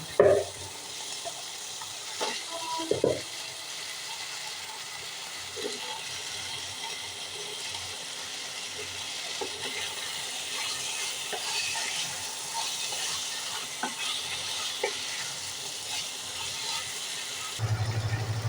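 Bitter gourd and potatoes with prawns are stirred in a frying pan, giving a soft continuous sizzle with scraping spoon strokes and a few sharp clatters of utensils at the start.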